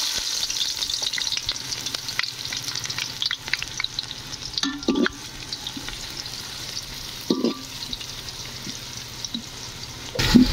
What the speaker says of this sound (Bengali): তার জন্য ওই তেলেতে আমরা দিব পেঁয়াজ কুচি